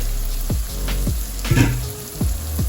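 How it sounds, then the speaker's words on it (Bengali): Bean seeds being sautéed in a pan for an amaranth leaf dish, a steady sizzle overlaid with repeated scraping stirs and spoon knocks, close and fairly loud. "আমার শিমের বিচি এতক্ষণে কষানো হয়ে গেছে।"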